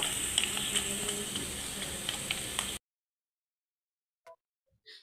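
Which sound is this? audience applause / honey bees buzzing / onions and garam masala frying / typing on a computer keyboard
onions and garam masala frying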